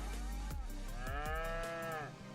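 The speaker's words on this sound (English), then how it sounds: "But we had a baby cow." Cattle mooing in the farming video game Farming Simulator 25: a long, loud, drawn-out bovine call with a sliding pitch, joined by a second moo partway through over steady low farm ambience.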